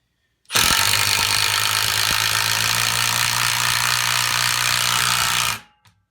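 A cordless brushless impact driver, one of a Ridgid, Milwaukee and DeWalt comparison at speed setting 3, drives a fastener in one loud continuous burst of rapid hammering rattle lasting about five seconds before stopping abruptly.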